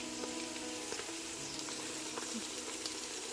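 Fenugreek leaves drop into hot oil with cooked onions for a mutton pulao and sizzle steadily, with faint stirring scrapes and ticks throughout.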